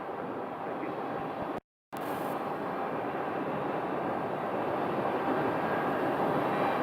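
An airplane taxis for departure at Phoenix Sky Harbor airport, its engines giving a steady, even broadband roar that holds loud throughout, broken only by a brief dropout early on.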